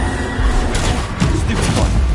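Bombarda explosion spell cast in Hogwarts Legacy, a dense run of booming blasts and thuds over a steady loud rumble, with a voice talking over the game.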